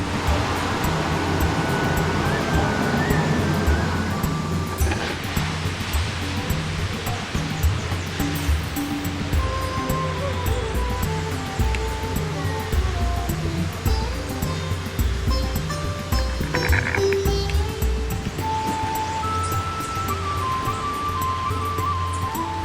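Sea waves wash steadily on the coast of Dominica, close to an outdoor toilet hut, making a continuous loud surf rush with faint tonal sounds mixed in and no speech.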